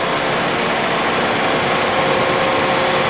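A 2006 Chevrolet Cobalt's 2.2-liter Ecotec four-cylinder engine running with the hood open, a loud, steady, close hum and whir with no variation in pitch and no talk.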